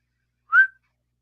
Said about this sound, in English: Bobby's whistling.